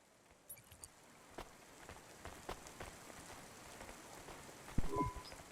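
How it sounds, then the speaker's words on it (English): Rain in the Cloudpunk video game patters steadily on surfaces, soft and quiet, with scattered louder drops and a brief clunk near the end. "Don't let all the rain get you down."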